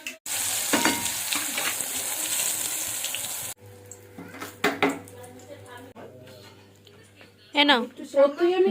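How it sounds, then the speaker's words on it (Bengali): Eggplant slices fry in a pan with a close, steady sizzle for a few seconds. Talking and household noise then take over, with the frying fainter underneath. "ওর মতন করে দুটো বেগুন ভাজি ভেজে দেবো"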